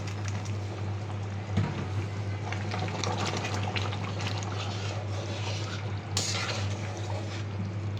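Water poured into a pot of tripe set to boil, a steady liquid rush and splashing close by with a brief clunk partway through, no speech.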